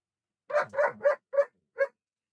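A dog named Shadow barking in a crafts workshop, five quick close barks in a tight burst, the first three clustered and the last two spaced out, with silence around them.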